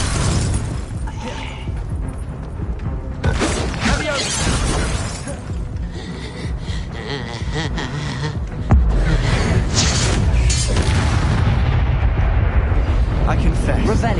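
Blasting spell effects in a Harry Potter video game, a run of loud explosive booms and shattering bursts, including a Confringo blasting curse, with voices speaking over the chaotic combat.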